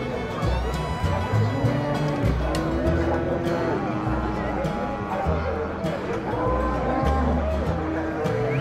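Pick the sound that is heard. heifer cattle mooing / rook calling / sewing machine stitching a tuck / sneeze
heifer cattle mooing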